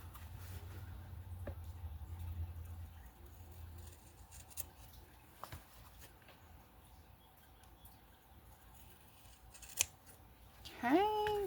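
Scissors cut angled pieces for a journal cover, with quiet, intermittent snips and rustles of the material, close and faint, ending in a brief squeaky sliding sound.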